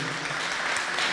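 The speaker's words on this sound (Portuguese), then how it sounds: "vamos dar uma salva de palmas ao Caboclo, a dar aquela coragem..." A crowd claps steadily, a dense wash of applause filling the short moment without pause.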